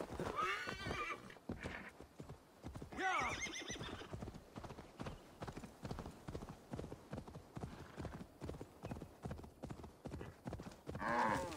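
A horse in the video game Assassin's Creed Valhalla gallops in a fast, steady hoofbeat rhythm, punctuated by loud whinnies at the start, middle and end, sounding close.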